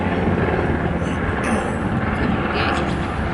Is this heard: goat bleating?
no